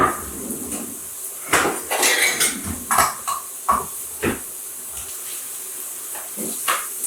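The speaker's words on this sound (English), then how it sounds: "While that's happening, I'm going to drain the beans." Canned beans drained in a kitchen sink for taco prep: irregular clatters and knocks of a can and metal dishware with splashing water, moderately close, in short bursts with brief pauses.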